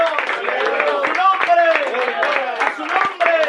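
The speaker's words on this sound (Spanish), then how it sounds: "vamos a darle un aplauso al Señor" A church congregation claps in a steady, lively rhythm, blended with voices and shouts throughout.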